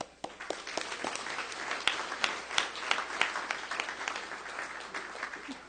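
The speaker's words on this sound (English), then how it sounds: "all of you here deserve a warm round of applause for the successful second Integrity Summit." A crowd at the second Integrity Summit, a business-community gathering, breaks into warm, sustained applause, dense clapping with a few sharper claps standing out, steady throughout and free of talk.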